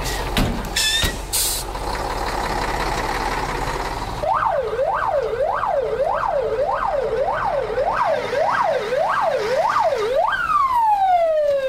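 A fire engine's wailing siren at a prison colony fire drill, rising and falling steadily and loud for several cycles after an opening burst of truck noise and air brakes, then winding down at the end.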